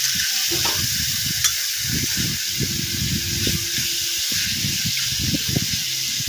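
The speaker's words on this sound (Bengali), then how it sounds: "দেখেন আমি যেভাবে কষাচ্ছি এরকমভাবে কষাবেন আপনারাও" Beef stir-frying in a pan, a constant hissing sizzle over low rhythmic scraping and turning strokes of a spatula, close and steady throughout without speech.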